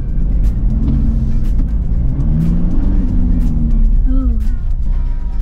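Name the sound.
Toyota Fortuner 2024 SUV driving zigzag handling test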